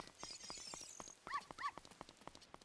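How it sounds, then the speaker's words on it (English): Dogs in the Ocarina of Time 3D video game give two short bark-like yelps in the middle, set against steady rhythmic footstep taps and a faint high background tone. "why are there so many dogs?"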